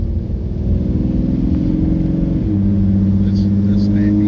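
A Ford Mustang S550 with a 3.7 V6 and turbo kit accelerates on the road, heard from inside the car as a steady, loud engine drone that drops in pitch midway as it shifts gear.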